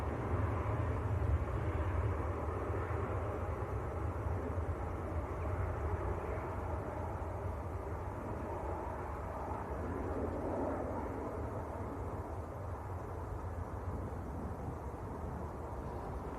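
A Finnair jet departs Manchester Airport for Helsinki, its engines a faint, steady distant roar that holds throughout with no voices.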